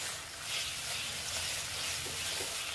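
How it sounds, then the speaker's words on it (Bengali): Bitter gourd frying and being stirred in a pan, a steady close sizzle with faint scraping of the spatula running throughout, no voices. "আমি এটাকে আবার নেড়ে চেড়ে নিচ্ছি ভালো মতন"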